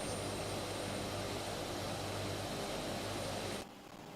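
Steady, loud drone of a Lockheed C-130 Hercules's turboprop engines on a slow landing approach in Flight Simulator 2024, holding constant before dropping off sharply near the end.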